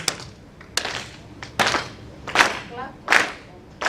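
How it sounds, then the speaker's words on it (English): Sharp hand claps land at a steady pace, about one every second, clear and fairly close over a quiet background, at an awards ceremony. "Just do a normal clap like this."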